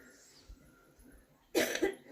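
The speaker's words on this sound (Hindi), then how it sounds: "खांसी दीदी की ख़त्म नहीं हो रही है" A short burst of harsh coughing, two quick coughs close together, following a quiet stretch with faint background noise.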